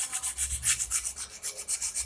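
Sandpaper rubs back and forth over a rusty hand saw blade in quick, even strokes, about twelve close, scratchy hisses in a steady rhythm with no talking.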